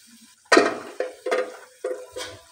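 A lid comes off a pot of fish curry with potatoes simmering on a medium gas flame, followed by several close metallic clanks and scrapes of the lid and a spoon against the pot.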